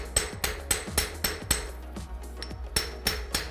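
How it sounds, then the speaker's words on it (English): Sharp metallic ball peen hammer strikes ring out one after another at a steady, fairly quick pace, about ten blows close by on the edges of a stamped metal cuff bracelet over hard steel, with no talking. "I'm going to use my ball peen hammer"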